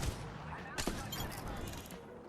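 Gunfire from the video game Apex Legends: a dense burst of rapid shots close to the listener, trailing into a steady background rumble.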